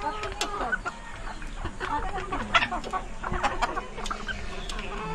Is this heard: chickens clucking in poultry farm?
yes